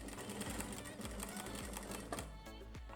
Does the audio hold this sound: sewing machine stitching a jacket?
yes